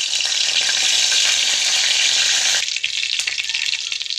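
Curry leaves sizzle loudly in hot coconut oil in a pan, a dense crackling fry that runs steadily for over two seconds, then drops off sharply into a softer, quieter sizzle.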